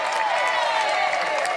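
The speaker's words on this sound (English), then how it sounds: "Give Terry a big round of applause." Crowd applause at a groundbreaking ceremony for the modernization of Coolidge Senior High School, a steady dense wash of clapping filling the whole moment at moderate loudness.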